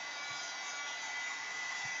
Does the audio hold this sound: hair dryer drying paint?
yes